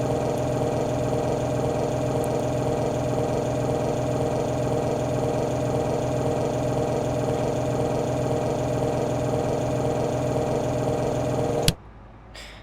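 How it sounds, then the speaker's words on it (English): Airliner engines in a flight simulator game hum at a steady, even drone in the cockpit, holding constant for a long stretch before stopping suddenly near the end. "Now I just started the engines."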